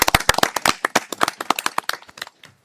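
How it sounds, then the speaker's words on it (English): A small council-meeting audience gives a short round of applause: distinct, close individual claps in a quick irregular patter that thins out and fades after about two seconds. "Let's round of applause"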